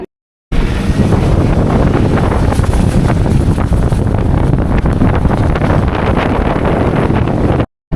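Floodwater of the Trishuli river rushes past in a loud, continuous roar, heavy with wind buffeting the microphone, steady for several seconds before cutting off.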